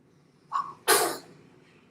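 A single sharp sneeze, preceded by a brief inhaling catch, loud and close in an otherwise quiet room.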